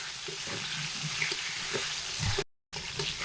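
Potatoes frying in oil in a home kitchen, a steady crackling sizzle with small pops and occasional stirring clunks, close by with no talking, briefly cut to silence near the end.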